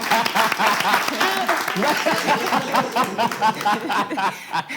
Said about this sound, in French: Est-ce qu'on peut applaudir pour Océane, s'il vous plaît?